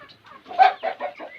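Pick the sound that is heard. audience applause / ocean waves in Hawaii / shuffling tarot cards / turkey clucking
turkey clucking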